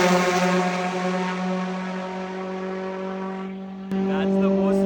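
A loud modified Mitsubishi Evo race car drones past on a racetrack in Dubai, a sustained harsh engine tone that shifts slightly as it goes by, heavy and steady, with a sharp change near the end.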